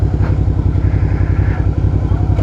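A Suzuki motorcycle with a Yoshimura exhaust idles loudly and close by. Its throaty, rapid pulsing is steady and fills the whole clip.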